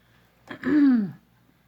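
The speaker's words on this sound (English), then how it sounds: "There I go, clearing my throat again." A single close, low throat clearing, a short rough rasp lasting under a second, with quiet surroundings before and after.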